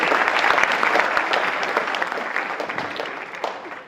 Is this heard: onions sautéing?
no